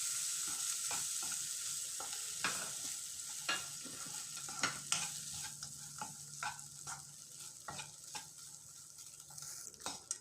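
Cooked white rice mixed with lime juice in a pan over the flame, stirred with a spoon: soft, fairly quiet scraping and tapping strokes in an uneven rhythm over a faint sizzle, no talk.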